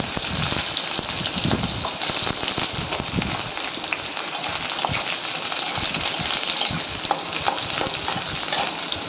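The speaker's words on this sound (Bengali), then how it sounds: "এরপর আমি কিছুটা কুচনো পেঁয়াজ দিয়ে দিচ্ছি" Chopped onion sizzles and crackles steadily in hot oil with dry red chilli, bay leaf and cumin, a dense close hiss with occasional stirring clatter, no voices.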